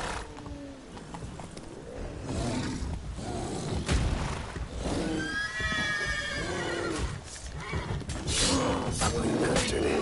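The horse Roach neighs and whinnies in the Witcher 3 video game, several loud drawn-out calls over hooves and rumbling background game noise.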